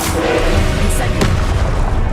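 Fiery Incendio spell cast in Hogwarts Legacy, a dense roaring blast of sound that stays loud and full for the whole stretch, with a sharp crackling burst near the middle.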